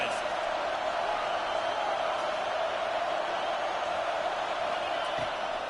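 A broad, steady roar from a stadium crowd at a college football game in College Football 26, constant and moderately loud, with a commentator talking over it.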